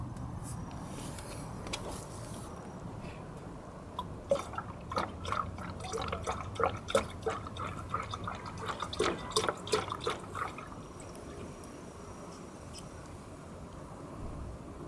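Antifreeze coolant is poured into the radiator of a 1997 Ford F150, making a soft, steady trickle with a burst of gurgling and splashing in the middle, quiet and close.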